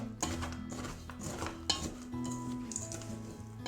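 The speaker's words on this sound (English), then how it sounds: "as we mix this, we can kind of use the whisk to get the biscuits a bit more" A whisk scrapes and clinks against a bowl, stirring crushed gluten-free biscuits into a crumbly mix, with steady metallic rattling and a background hum, no voices.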